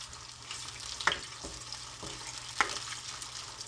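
Ligo sardines are stirred in a frying pan: a faint, soft sizzle runs throughout, broken by two sharp clinks of a utensil against the pan.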